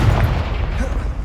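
A deep booming blast from the Confringo explosion spell in Hogwarts Legacy, a single heavy low rumble right at the start that fades away under the game's surrounding sound.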